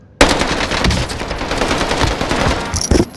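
Gunfire in the Call of Duty video game Caldera map, a loud sustained automatic burst starting abruptly and rattling for about three seconds, ending with a couple of sharp final shots.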